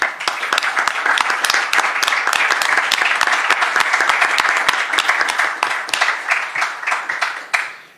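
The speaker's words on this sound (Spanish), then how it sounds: "Les pido un fuerte aplauso para él." Audience applause at an academic law event, a steady dense crowd clapping for about eight seconds, loud and close, with individual claps standing out near the end as it tapers off.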